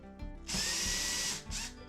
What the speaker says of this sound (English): I'm using the drill